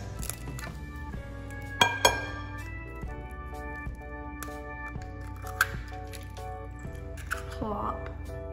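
Two eggs cracked against a bowl for zucchini flower and ricotta fritter batter, giving sharp clinks and a wet squish close by, with steady music running underneath.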